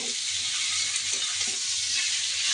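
Bottle gourd leaves sizzling in a pan with browned onion and garlic, a steady dense hiss of frying that stays loud and even throughout, close up with faint stirring underneath.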